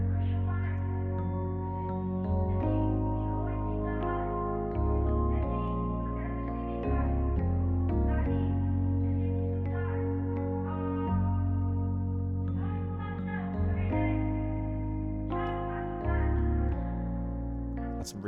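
Layered synth pads in FL Studio swell beneath sustained chords, forming a dense, steady wash of sound with gentle changes every few seconds.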